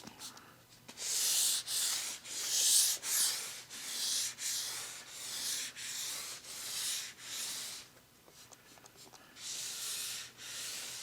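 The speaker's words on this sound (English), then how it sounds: "I'm just going to take a wet sanding sponge, 800 grit wet sanding paper" Rhythmic wet sanding strokes with an 800-grit sanding sponge on a wooden dresser, a steady back-and-forth hiss along the grain repeating about a dozen times, close and fairly loud.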